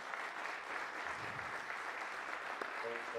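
Faint, steady applause from an audience at a town band concert fills the whole stretch, with a voice briefly over it near the end.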